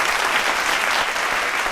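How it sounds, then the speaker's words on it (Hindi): An audience breaks into brief, dense applause at a televised Hindi debate show, steady clapping filling the short moment with no talk. "एक बार ताली होना चाहिए।"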